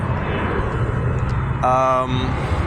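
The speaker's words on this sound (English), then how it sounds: "obviously there's planes coming in all the time here" An American Airlines airplane flies near an airport, giving a loud, steady broadband roar that fills the whole stretch, with a brief tonal whine rising above it midway.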